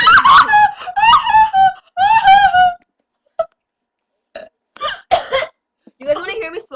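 Several loud, drawn-out burps in quick succession during a burping contest, each a long croaking belch, followed by softer short bursts and people talking and laughing nearby.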